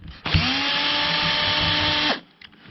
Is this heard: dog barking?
no